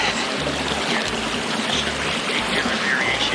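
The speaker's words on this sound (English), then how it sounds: "Back to the creek again. This time, quite easily crossable." A rainforest creek flows and splashes steadily up close as someone wades across, with a constant rushing wash of water and low thumps of footsteps.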